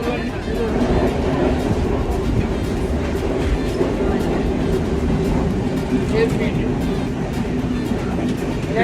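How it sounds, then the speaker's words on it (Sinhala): Inside a moving train carriage near Nawalapitiya, Sri Lanka: a constant loud rumble of wheels on rails with faint rhythmic clacking and rattling. "අපි දැන් ට්‍රේන් එකට නැගලා ඉන්නේ."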